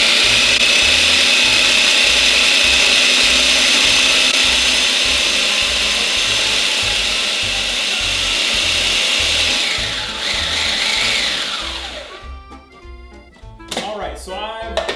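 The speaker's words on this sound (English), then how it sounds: "run the oatmeal through a food processor for a good 45 seconds" A food processor pulverizing oatmeal into a flour-like powder, a loud steady whirring grind that runs for several seconds and then cuts off with a few clattering knocks as it winds down.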